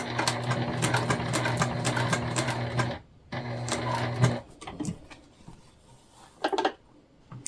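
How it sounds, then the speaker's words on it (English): A sewing machine back stitches on a small hip bag, its loud, steady mechanical whir running in close bursts with a brief pause between them, then trailing off into light handling sounds. "We're back stitching."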